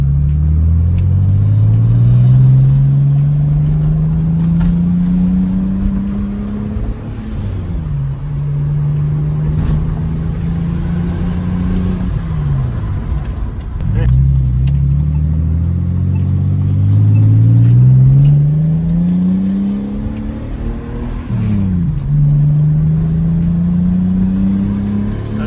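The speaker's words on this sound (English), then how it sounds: "He's wanting us to do high RPM with just a little bit of throttle on it, so we end up building" A turbocharged BMW E46 engine revs repeatedly under boost at high RPM with light throttle, pitch climbing steadily then dropping in several long pulls, loud and close with no talking.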